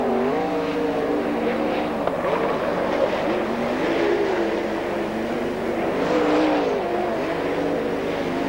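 Sprintcars race at Speedway City in Adelaide, several engines droning and rising and falling continuously as cars circle the dirt track, loud and steady throughout with no pauses.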